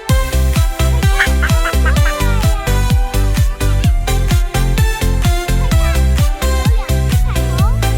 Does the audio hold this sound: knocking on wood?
no